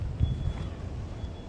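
Gusty wind buffets the microphone outdoors, a steady low rumble with a few stronger thumps, no voices.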